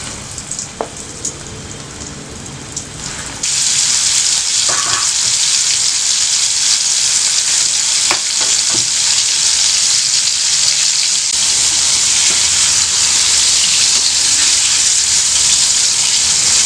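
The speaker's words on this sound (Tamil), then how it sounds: "இப்போ இதை வந்து எண்ணெயில் ஃப்ரை பண்ணிக்கலாம்." Popcorn chicken drops into hot oil and bursts into a loud, dense, continuous sizzle that holds steady up close, with a few faint clinks before and during the frying and no speech.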